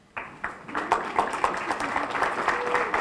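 Audience applause at an opening session, a crowd clapping in a hall with broadband bursts building and sustaining for about three seconds, moderately loud, with some voices mixed in.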